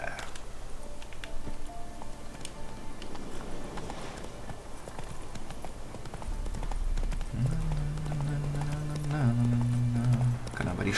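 A horse gallops in The Witcher 3, with rhythmic hoofbeats clip-clopping steadily under someone talking, and low game music swelling in toward the end.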